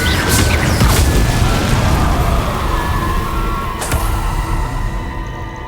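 Incendio fire spell cast in Hogwarts Legacy, a loud roaring whoosh of flame with a couple of sharp bursts layered over continuous dense game noise, no one talking.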